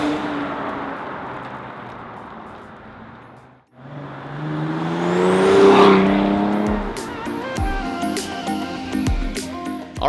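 A Cadillac CTS V-Sport fitted with a ZZP intake revs loudly up and back down in one strong pull, rising to a peak and settling to a steady idle, with no talking.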